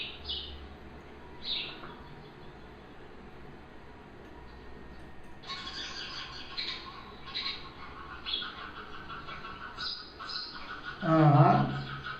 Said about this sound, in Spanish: Así lo tenemos, el pajarito, con su sonido muy característico.